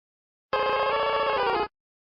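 A short electronic chime plays as a stream follow notification alert, a bright tonal jingle about a second long, clean and alone with no talking over it.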